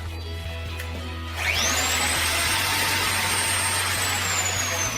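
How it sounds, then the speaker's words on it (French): A router mounted upside down in a router table switches on through its main safety switch, a sharp rising whine that settles into a loud, steady high-pitched motor roar over a constant low hum. "Ensuite, vous pouvez allumer la fraiseuse avec l'interrupteur de sécurité principal."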